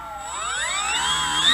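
The electric motor of a Durafly Bravado RC plane whines up on a ground test run, its pitch climbing smoothly as the throttle opens. The sound is close, loud and continuous.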